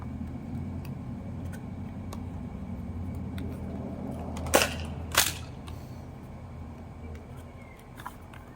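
A worn Nerf shotgun blaster fires foam darts in two sharp, close pops about half a second apart, then one faint click, over a steady background hum.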